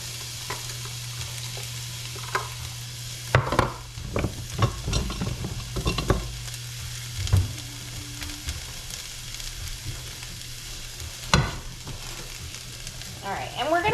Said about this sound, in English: And now we're gonna add our onion and our garlic to the pan.